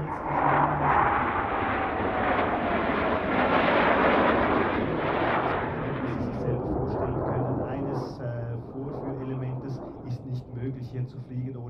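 A Swiss Air Force F/A-18 Hornet jet roars past at an Alpine air display, a loud, broad engine rush that swells, peaks and fades into a lingering rumble with a descending whine.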